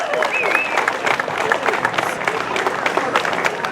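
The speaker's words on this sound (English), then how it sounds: "You guys ought to give these guys an applause." Outdoor crowd at a Democrats' street party applauding a band, lively close clapping with scattered whoops and cheers, sustained and fairly loud.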